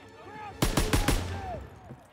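Rapid burst of about four loud gunshots from a World War II era battle in the Call of Duty WWII video game, standing sharply over a low background rumble.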